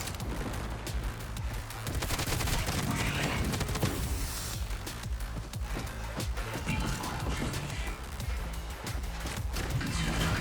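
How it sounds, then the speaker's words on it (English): Rapid gunfire from a run-and-gun first-person shooter game crackles in dense bursts and sustained automatic volleys for several seconds, loud and almost continuous, with weapon handling sounds mixed in. "I'm gonna go ahead and reload my gun so I can unload on this guy as much as I can."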